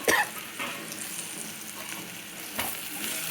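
Leafy greens frying in a pan with coriander powder, a soft continuous sizzle with occasional stirring scrapes and small crackles, close and without talk.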